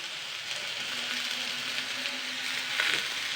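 Chopped cauliflower stalks and tomato sizzle steadily in a hot pan, a constant close crackling hiss throughout with no talk.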